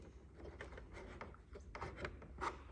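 Timber piece shifted and rubbed against the wood of an antique bureau or drawer during restoration, a series of close scraping, rasping slides and soft knocks at moderate level.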